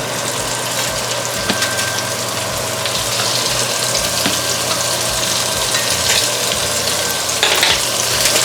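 Thin salmon pieces fry in a pan with a loud, even sizzle and spatter, steady and close for several seconds under a low hum, with no voice.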